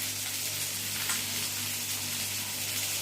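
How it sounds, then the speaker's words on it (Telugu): Salmon fish sizzles and crackles steadily in a frying pan, a close, continuous hiss with fine popping over a low hum, and no voices. "సాల్మన్ ఫిష్ ఫ్రై చేస్తున్నాం ఈరోజు."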